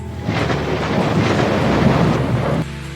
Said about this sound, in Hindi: तभी अचानक बारिश आने लगती है